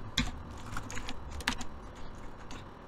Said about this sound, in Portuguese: Eu vou digitar aqui, depois vocês só copiam